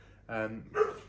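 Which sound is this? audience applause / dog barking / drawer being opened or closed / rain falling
dog barking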